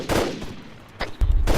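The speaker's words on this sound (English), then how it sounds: "Copy that, taking fire from right." Gunfire during platoon training, a few loud, sharp reports in quick succession, close and unaccompanied by voices.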